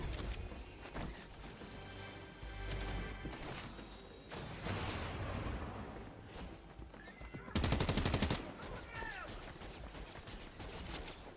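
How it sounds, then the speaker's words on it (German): Automatic gunfire in Fortnite cuts down bots in quick bursts, rattling at moderate loudness, with one louder rapid volley near the end and game sounds in between. "ich schieße so viele Bots"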